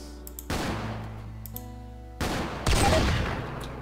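Bursts of RimWorld gunfire, a short volley followed by heavier overlapping shots, loud and close with sustained rattling over a steady game background hum.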